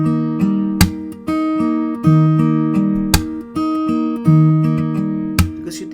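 Acoustic guitar slap-and-strum exercise played with a faulty arm motion, sharp percussive slaps landing at uneven intervals between ringing strummed chords, close and alone.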